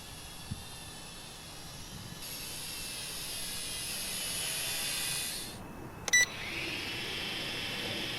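Cheap $50 toy drone flying over a backyard pond, a faint high-pitched whine hovering steadily with a brief dip and a couple of small clicks, heard from some distance outdoors.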